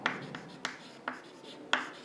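Writing on a board in a database lecture: four or five scratchy strokes, close and fairly faint, spaced unevenly with short gaps between them.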